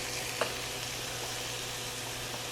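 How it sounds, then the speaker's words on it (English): Minced garlic gets stirred into onions frying in a pan, giving a steady, moderate sizzle with a single small clink early on. "add 2 teaspoons of minced garlic. Stir that into the onions."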